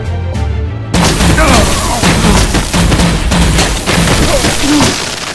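Gunfire in Batman: The Enemy Within erupts in a loud, dense fusillade of rapid shots and booms after a short quieter lead-in, continuing throughout with voices shouting under the barrage.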